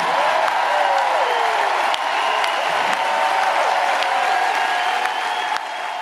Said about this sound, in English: Would everybody please give a huge round of applause for Mr. Omar Hakim on the drums tonight.